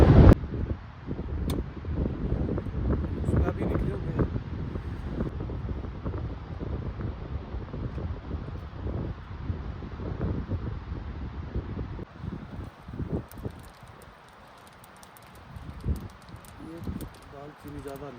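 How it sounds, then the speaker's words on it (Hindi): Strong wind buffets the microphone outdoors during a Manali to Ladakh road trip, making a heavy, uneven low rumble that eases near the end, beneath a person talking. "हवा चल रही है बहुत तेज"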